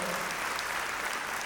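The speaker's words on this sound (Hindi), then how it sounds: "एक बार जोरदार तालियां हो जाए" Crowd applause at an International Yoga Day event in a Mumbai dome, a brief, dense, steady burst of many people clapping, loud and even throughout.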